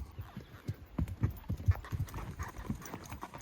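Horse hooves clop along a rocky mountain trail at a steady, hurried walking pace, close by, with uneven knocks and scrapes on stone.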